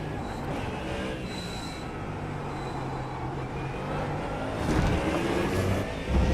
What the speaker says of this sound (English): This car makes good noises.